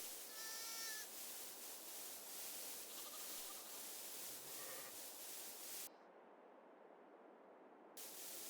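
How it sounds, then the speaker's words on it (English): Sheep bleating on a farm, a few wavering calls in the first seconds over steady broadband hiss, then a brief near-silent gap before the hiss returns. "I like hearing our sheep over there."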